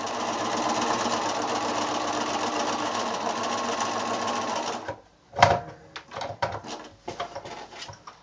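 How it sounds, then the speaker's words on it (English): A sewing machine stitches quilt squares together for a snowball block, running steadily and close for about five seconds before stopping, followed by a few short handling clunks and knocks. "So I'm going to sew my squares on."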